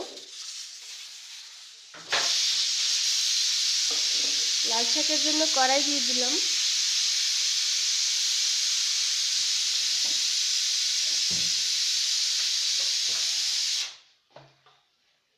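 A pressure cooker with meat inside vents a loud, steady hiss of steam for about twelve seconds, starting abruptly and cutting off sharply. A brief voice speaks over it partway through.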